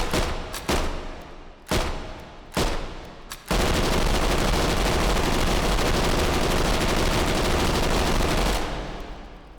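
PPSh-41 submachine gun fired in the VR shooter H3VR: several short separate bursts, then one long sustained full-auto stream lasting about five seconds, loud and close with no talking.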